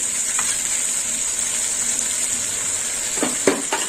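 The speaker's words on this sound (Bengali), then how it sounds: "টমেটো বাটা দেওয়ার পরে একটু কষে নেবো" Ground tomato paste fries with spices in oil in a pan for a green banana ball curry, hissing in a continuous sizzle, followed near the end by a few clattering stirs with a utensil.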